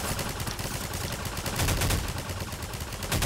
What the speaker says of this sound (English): There's a turret off here, shooting for us.